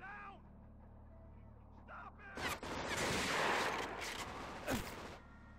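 Gunfire bursts in the shooting video game 007 Agent Under Fire, a loud dense volley of shots lasting a few seconds mid-clip, with faint breathy vocal sounds before it.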